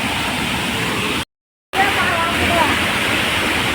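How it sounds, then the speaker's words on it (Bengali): Rushing water of a waterfall in Arunachal, a dense, loud, steady roar filling the scene, broken by a brief gap of silence before the torrent resumes, with a voice faintly present. "পানি দেখতে পাচ্ছেন, পানি শব্দটা কিন্তু পুরাই অসাধারণ"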